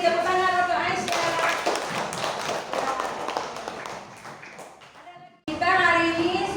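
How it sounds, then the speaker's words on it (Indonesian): A primary-school class in Bireuen, Aceh, claps hands in a brisk burst of applause that gradually fades, with a voice speaking over it near the end. "Terima kasih, tepuk tangan untuk Aisyah."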